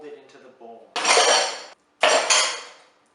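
Whipped cream is folded into a bowl in two loud, scraping strokes of a utensil against the bowl, with a brief voice just before the first stroke.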